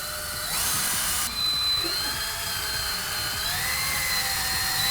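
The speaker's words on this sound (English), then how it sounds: "Use a drill bit that's slightly smaller than your hook and drill into the stud." Drill bit boring into a wooden ceiling stud: a steady high-pitched motor whine that shifts pitch as the bit bites and slows, continuous and close for the full few seconds.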